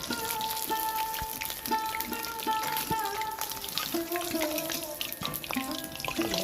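Momos deep frying in hot oil, a steady close sizzle and bubbling with light pops and crackles throughout, with occasional utensil clinks over the hiss.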